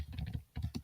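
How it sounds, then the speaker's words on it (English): Keys clatter on a computer keyboard in two quick bursts of typing with a short pause between them, close and fairly quiet. "we're going to start by typing something"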